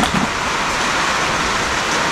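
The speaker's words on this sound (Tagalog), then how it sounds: "malakas ang ulan" Heavy rain pours in a dense, even hiss that stays loud and steady throughout, with no voices.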